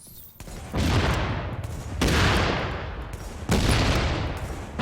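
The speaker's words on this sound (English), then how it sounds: "Yeah, you see how it explodes on every shot?" Explosive bullets firing in The Division shooter game, loud repeated bursts of gunfire with blasts, three long volleys each cut by a short pause.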